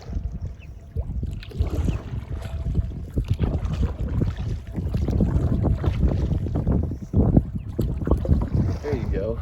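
A canoe paddled down the Catawba River on a camping trip, with soft, irregular paddle strokes and water splashes mixed with steady wind buffeting the microphone throughout.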